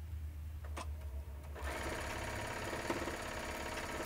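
A sewing machine stitches quilt blocks in chain piecing for a table topper, starting after a brief pause and then running in a steady, fast, even whir with a rapid needle rhythm, close and continuous to the end.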